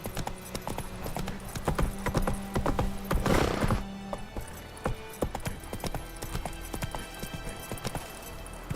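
Roach the horse galloping in The Witcher 3 video game, a rapid, steady clip-clop of hooves close by with creaking tack and a whoosh of movement, no talking.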